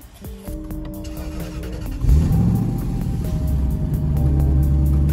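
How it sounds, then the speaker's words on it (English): A Lexus LS400 in icy weather cranks and fires up about two seconds in, then settles into a steady, close idle that swells slightly toward the end, with no talking. "Wow, the car still starts."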